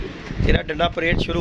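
Pigeons coo close by as they are let out of their loft on a windy day, heard in short bursts under a man's speech with gusty wind noise behind.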